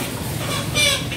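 Live chickens at a Malaysian poultry market give short, steady clucking close by, with one louder burst of calls near the end.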